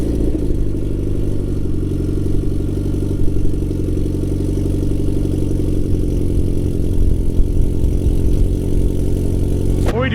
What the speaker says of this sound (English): This is a cold start, so the car has not been started in a long time.